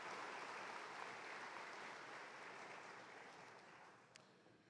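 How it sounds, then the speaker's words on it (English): Steady applause from a crowd at a spring commencement ceremony fills the space, dense and even, slowly tapering off toward the end. "Let's give them a round of applause."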